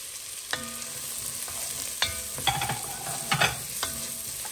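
Shallots and onions frying and being stirred in a pan, with a steady soft sizzle broken by several clattering spoon scrapes and stirring knocks, close and moderately loud, without any voices.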